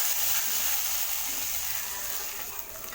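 A tempering of dried red chilli and curry leaves is poured into fenugreek curry, giving a loud, steady, close sizzle that hisses continuously and fades slightly toward the end.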